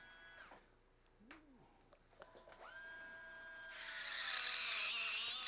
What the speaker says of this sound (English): So I'm grinding both sides of the fracture